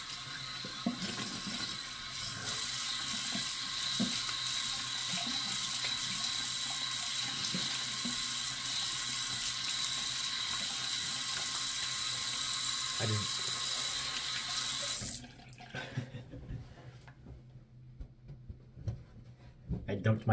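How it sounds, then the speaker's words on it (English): Cold water runs steadily from a tap for a rinse-off, a loud, even rush that lasts about fifteen seconds and then cuts off, leaving quiet room noise and faint knocks. "let me rinse off. Cold water."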